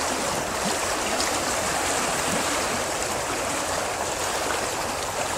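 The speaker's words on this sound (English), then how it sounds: "This is Keremeos Creek." Floodwater of Keremeos Creek at Becks Road in Keremeos rushes past at high level, a steady, loud, broadband roar of churning current with no pauses, close and continuous throughout.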